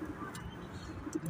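Pigeons on a rooftop loft give soft, low coos, faint and intermittent against a quiet background.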